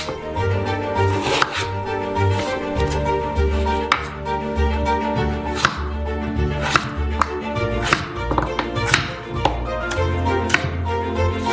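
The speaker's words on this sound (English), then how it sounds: "Then cut them into medium-sized cubes." A knife cuts a giant castella sponge cake into medium-sized cubes at a Korean street food stall, a series of sharp chops landing on a board at an irregular, fairly quick pace over background music.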